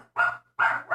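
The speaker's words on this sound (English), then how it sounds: "Dogs are barking." Dogs barking at home, two loud close barks with a short gap between them and a third starting as it ends.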